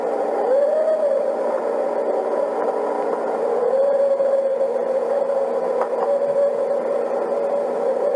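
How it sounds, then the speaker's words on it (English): A recorded coyote call plays back, a long wavering howl-like tone rising and sliding, steady and moderately loud over a hissy, radio-like background. "I'm hearing like a call of a coyote right now."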